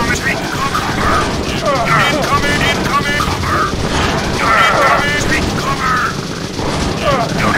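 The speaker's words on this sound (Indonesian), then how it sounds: "gue memainin granat aja" Repeated grenade blasts in the zombie shooter game Zombie Defense, a dense run of booms and bursts layered over constant gunfire, loud throughout, with a person talking over the action.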